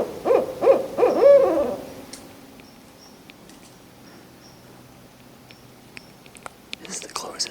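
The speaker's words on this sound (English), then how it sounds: "This is the closest I've ever been to a barred owl." A barred owl hooting from a tree about thirty feet away along a woodland rangeway walk: a short series of loud, close hoots that fades into quiet woods with faint scattered ticks and distant rustling.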